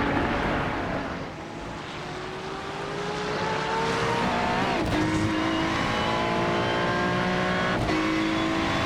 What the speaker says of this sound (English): Dan Pepples going down the Mulsanne straight, trying to catch up to the crispy Vrazilov piloted 278 Porsche.